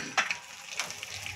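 Soft crackling sizzle of chilies dropped into hot ghee for a cumin tempering, with a few sharper pops near the start, close and fairly quiet.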